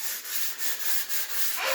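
Close, steady sanding of excess plaster off a timber wall beside a newly replaced front door, a continuous raspy rubbing in repeated back-and-forth strokes with no talking.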